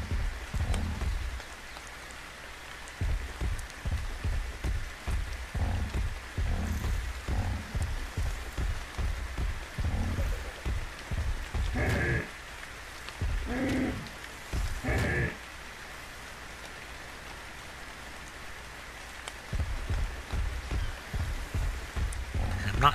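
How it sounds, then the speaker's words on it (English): Steady rain falls in ARK: Survival Evolved on Crystal Isles as a constant soft patter with a rhythmic thudding underneath, and a few brief, brighter sounds stand out near the middle. "But it's raining."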